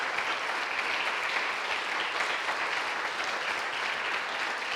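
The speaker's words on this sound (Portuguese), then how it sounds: "Quem crê, aplauda o nome do Senhor" Congregation applauding together during an evangelical church service, a steady dense wash of clapping that fills the room at even loudness from start to finish, with no voices standing out.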